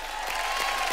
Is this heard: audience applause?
yes